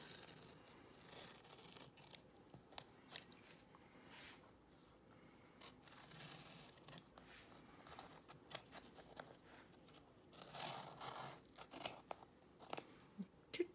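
Scissors snip through fabric and stabilizer while an in-the-hoop zip bag is being assembled, giving a series of soft, close cuts and scrapes at uneven intervals, with quiet handling noise between them and no talking.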